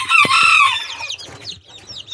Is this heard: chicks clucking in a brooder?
yes